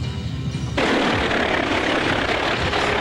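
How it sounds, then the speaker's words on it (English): A helicopter flies low overhead, its loud rotor roar and engine rumble surging in suddenly and then holding as a dense, close, continuous drone. "Loud helicopter noise, sounded like it was right over the trailer"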